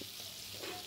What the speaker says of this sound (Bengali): এখন ভাজা হচ্ছে চিংড়ি মাছ